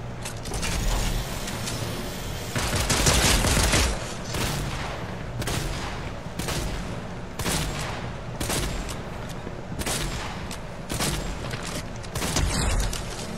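Rapid bursts of video game gunfire, a sustained fusillade with repeated sharp volleys and booms over a dense mix of game sound, loud and continuous throughout.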